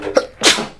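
One sharp human sneeze up close: a quick catch of breath, then a louder, breathy burst that trails off.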